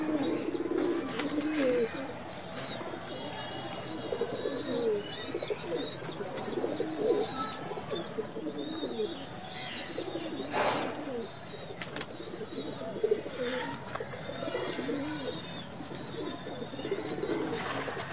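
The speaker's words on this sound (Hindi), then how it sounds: "कुछ बर्ड अंदर अपने बच्चों को दाना दे रहे हैं," High-flyer breeder pigeons cooing steadily from close range while feeding their young, soft throaty coos overlapping in a continuous chorus with occasional wing flutters and chirps, no talking.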